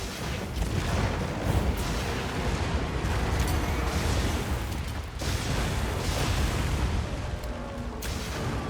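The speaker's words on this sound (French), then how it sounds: "Et on a des canons anti-wyvern" Anti-wyvern cannons fire in the video game Monster Hunter Wilds, a dense, roaring barrage of booms and blasts that stays loud and continuous, with sharper bursts standing out near the middle and end.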